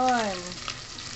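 A pan of frying garlic hisses and crackles up close with steady sizzling and scattered pops, while a short tonal voice-like sound rises and fades at the start.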